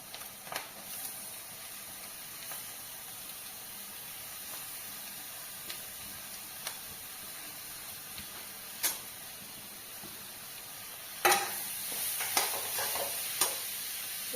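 Chopped vegetable for a Konkani jackfruit-seed dish hisses faintly in a hot pan, with sporadic crackles and a louder burst of sizzling and stirring near the end, and no talking.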